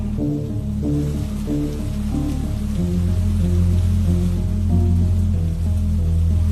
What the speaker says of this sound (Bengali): টিপ টিপ টিপ টিপ করে বৃষ্টি শুরু হলো